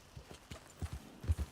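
Horse hooves clip-clop in Red Dead Redemption 2, a run of distinct thudding steps that speeds up and grows louder toward the end, close by with no talking.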